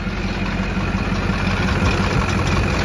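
A Chevrolet Silverado 3500HD pickup's 6.6-liter Duramax diesel engine, which smokes a little, idles loudly and steadily up close at an auction lot, a constant low rumble with no speech.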